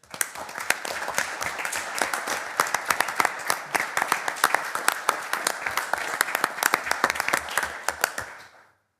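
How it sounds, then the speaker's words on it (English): Applause from the audience at a city council workshop, dense rapid clapping from many hands that holds steady for about eight seconds and then stops abruptly. "how about a round of applause for this team?"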